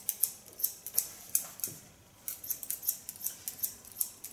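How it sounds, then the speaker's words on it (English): Barber scissors snip through a man's hair at close range, crisp metallic clicks repeating in a steady quick rhythm with a brief pause midway, quiet and alone. "Scissors. Yeah, it's a manly sound."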